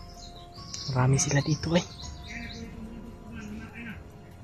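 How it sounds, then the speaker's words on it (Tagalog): Several small birds chirp and tweet in an outdoor spot, bright brief calls scattered through the clip, heard under a man's nearby speech. "May mga ibon."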